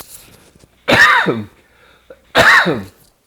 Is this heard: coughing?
yes